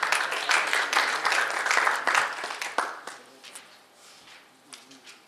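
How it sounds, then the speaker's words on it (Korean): Audience applause at a physical education teachers' lecture on sports college admissions greets the speaker, with dense clapping that holds steady, then thins to scattered claps and fades out near the end. "박수 부탁드리겠습니다"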